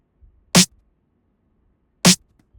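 Two isolated snare hits about one and a half seconds apart, crisp and bright with a short noisy tail, against near silence.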